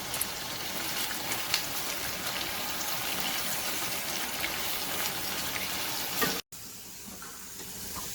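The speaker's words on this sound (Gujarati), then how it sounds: "તેલમાં ડુંગળીને ફ્રાય કરી લઈશું. એકદમ આપણે ગોલ્ડન બ્રાઉન થાય એ રીતની આપણે કરીશું" Onions frying in oil until golden brown, a steady, fairly quiet sizzle and hiss that runs unbroken before a brief cutout, followed by a fainter, thinner frying sound.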